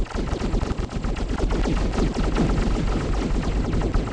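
Rapid, continuous machine-gun-style fire in the planet-destruction video game Solar Smash, loud and dense, with the bursts running without a break throughout.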